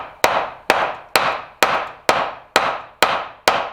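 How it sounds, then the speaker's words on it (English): A mallet strikes a chisel cutting a mortise in a timber frame, eight crisp, evenly spaced knocks about half a second apart, each ringing briefly and fading before the next. "trying to get the chisel right in your knife line"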